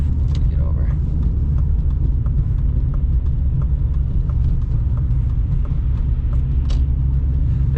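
A rear-wheel-drive car drives over snowy road, a constant low rumble of engine and tires inside the cabin, with faint scattered clicks and no clear speech.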